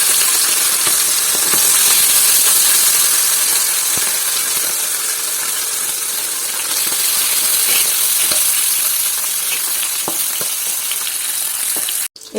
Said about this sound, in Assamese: তেলখিনি গৰম হৈ গ'ল মাছখিনি এতিয়া ভাজি লওঁ ভালকৈ